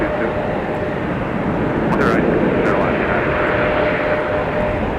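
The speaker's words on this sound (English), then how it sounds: "CRJ 900LR Endeavor 5029 with destination information not available." An Endeavor CRJ 900LR jet at Minneapolis–St. Paul Airport during a winter storm, its steady engine roar loud and continuous throughout, with a voice talking over it.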